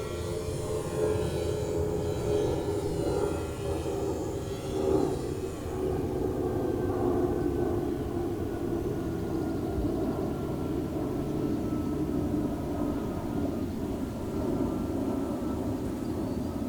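An E-flite UMX Slow Ultra Stick RC model airplane flies outdoors, its small electric motor giving a steady, moderately loud buzzing drone that holds for the whole stretch with no talking.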